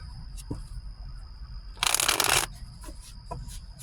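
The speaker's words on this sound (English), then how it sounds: "Let's shuffle and cut the deck." A short burst of cards being riffle-shuffled, a dense crisp fluttering lasting under a second, with quiet room noise before and after.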